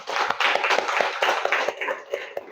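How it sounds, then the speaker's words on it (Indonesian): A classroom of students applauds together, dense, steady clapping that fills the room and tapers slightly toward the end. "beri aplaus untuk kita semua"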